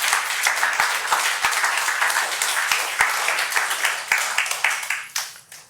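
A church congregation claps steadily for several seconds during a service, sharp individual claps standing out, before the applause thins and fades away at the end.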